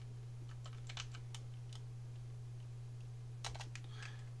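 Quick clusters of keystrokes tap on a computer keyboard, two short bursts of clicks over a low steady electrical hum, quiet and close.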